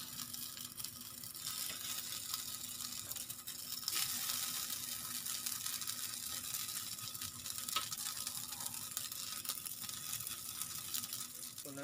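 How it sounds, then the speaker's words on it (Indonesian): Balinese sate lilit grilling in a teflon pan gives off a steady, soft sizzle and crackle with faint spattering throughout, heard close up and without voices. "Kita panggang dia di teflon"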